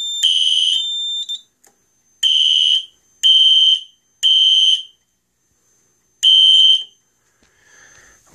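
Simplex 4004 fire alarm system under test sounds a loud, piercing electronic horn in repeated pulses, several long blasts separated by short silences, close and clear with no talking.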